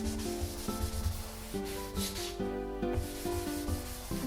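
Paper towel rubbed in circular motions over graphite transfer paper on a sketch, giving a steady close scratchy swishing that runs continuously and alone, backed by soft music.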